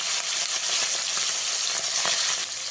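Marinated prawns fry in hot mustard oil in a wok with a loud, dense, continuous sizzle and popping crackle, close up, with no voices.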